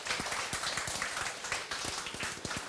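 A church congregation claps their hands together in praise, with many overlapping claps in a brisk, slightly uneven rhythm over a steady wash of room noise.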